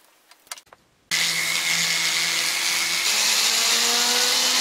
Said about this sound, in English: Now I need a soft buffing wheel.